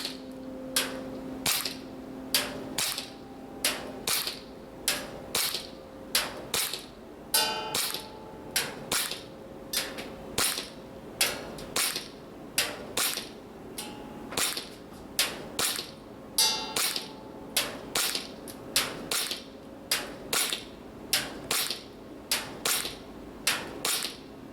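A WE Gen5 gas blowback pistol fires a long string of sharp, evenly paced shots at a 40-meter target, each crack followed by the clack of the slide cycling. The reports are close and crisp, with no talking.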